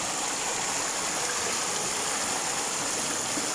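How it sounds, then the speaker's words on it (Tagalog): A mountain river streams over rocks in a steady, broadband rush that holds at one level throughout, close and continuous, with no voices over it. "Sa kilid kasi napakaganda nakita kong ilog dito"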